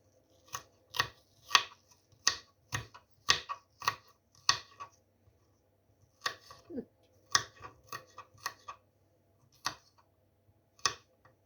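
A knife chops an onion steadily on a cutting board, sharp irregular taps coming in quick bursts with short pauses between them, close and clear.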